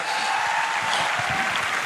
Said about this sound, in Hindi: अरे भाई साहब ताली तो बजा दो यार,